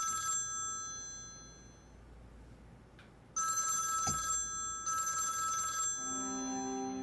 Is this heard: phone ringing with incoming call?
yes